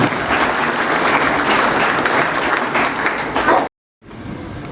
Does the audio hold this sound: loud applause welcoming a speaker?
yes